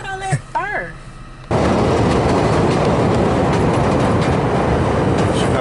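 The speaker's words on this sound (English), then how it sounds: "Chicago train." A sudden loud, steady roar of a Chicago train passing close by, sustained and rumbling, after a few seconds of brief voices and squeaks.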